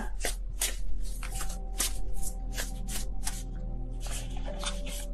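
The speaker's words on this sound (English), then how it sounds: "I don't know what's going on with my shuffling right now." Tarot cards are shuffled by hand in quick, repeated riffling bursts, close and fairly quiet over a steady low hum.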